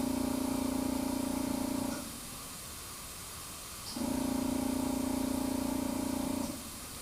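An airbrush spraying Mr. Paint gives two steady hissing bursts, each lasting about two seconds, separated by a quieter pause; the sound is close and smooth with no talking.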